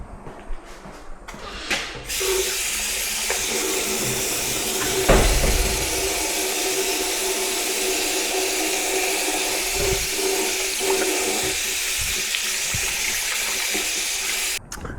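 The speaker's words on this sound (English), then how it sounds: "the place I'm at right now has a restroom where I can wash my hands" Tap water runs into a restroom sink at a park during handwashing, a steady close gush and hiss that starts after a couple of seconds, with a few clunks and splashes, and cuts off near the end.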